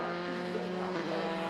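A Dallara F308 Formula 3 race car drones with a steady, buzzing engine note at Donington Park during a 2021 F3 Cup race, heard at a distance, faint and continuous with slight pitch shifts as it moves around the circuit.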